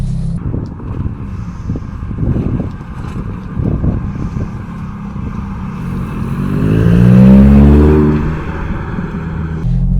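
A Ford Focus RS MK1 on stiff aftermarket suspension driving on a rough, unsuited road, engine rumbling low and loud inside the cabin, swelling into a rising rev near the end with wind and road noise throughout.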